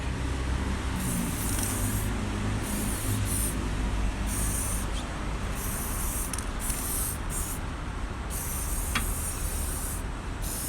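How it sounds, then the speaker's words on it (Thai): Repeated bursts of shine protectant sprayed onto the plastic trim and tires of a 2020 Isuzu during pre-delivery cleaning, short hissing spurts close up over a steady background hum. "ฉีด ฉีดอย่างเงี้ยฉีด ฉีดให้เงา"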